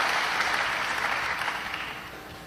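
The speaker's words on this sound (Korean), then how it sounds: "굉장히 스스로에게 축하의 박수를 보내셔도 좋을 것 같습니다" Steady applause from a seated audience during a formal address in Korea, dense and continuous at a moderate level, tapering slightly toward the end with no talking.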